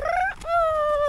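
Person imitating a rooster crowing: a short, loud, close vocal call with a rising tone, a brief break, then a long held note.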